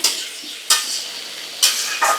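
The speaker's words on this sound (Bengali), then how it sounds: "সবজিটা একটু ভাজা ভাজা হবে, যাতে কাঁচা গন্ধটা চলে যায়।" Spinach and mixed vegetables with garlic stir-frying in a pan: a steady sizzle with three sharp bursts as the food is tossed and stirred, close and fairly loud, with no talk.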